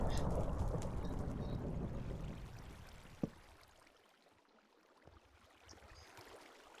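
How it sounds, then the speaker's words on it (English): Steady rushing of flowing water in a modded Minecraft world, fairly loud at first and then fading to a faint trickle, with a couple of sharp clicks near the end. "I am going to have to stop this water."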